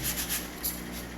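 Brief hand sanding: a few quick rasping strokes against wood, close and light, in a short rhythmic run.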